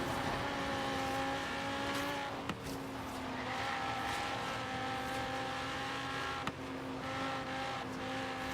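A BMW engine racing in the Forza Horizon 3 video game, a steady, fairly quiet sustained engine drone with a couple of brief sharp clicks along the way and no talk.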